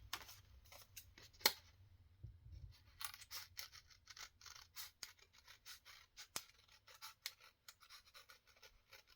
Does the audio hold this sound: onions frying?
no